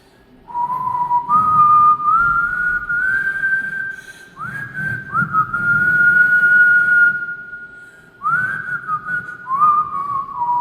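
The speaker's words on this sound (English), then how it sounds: "He looked up to the sky and whistled a tune." Someone whistles a simple tune alone, in several phrases with short pauses between them, clear and close against a quiet background.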